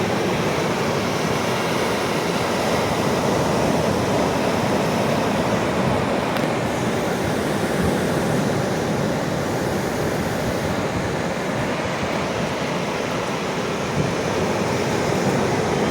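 Sea waves wash steadily onto the sand at Suryalanka beach in Bapatla, a continuous broad roar of surf with gentle swells, close and loud, with no voices.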